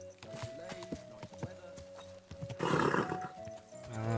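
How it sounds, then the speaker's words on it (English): Horse hooves clip-clopping in a steady run with a neigh or whinny, from the video game Kingdom Come: Deliverance II, mixed with game music and a louder burst of noise near the end. "horse."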